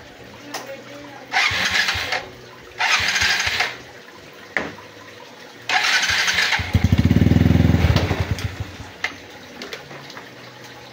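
A motorcycle engine is cranked and started in a garage with a suspected torque problem, several loud bursts of starter noise in a row followed by a deep rumbling catch of the engine, with water-like hiss and some talk nearby.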